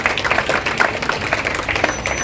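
Audience applause breaks out at a public gathering, a dense patter of many hands clapping at once, loud and continuous for a couple of seconds.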